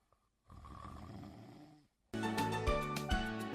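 A person snores in a few loud, rough breaths, the first softer and the later ones heavier and more resonant, heard up close with no talking.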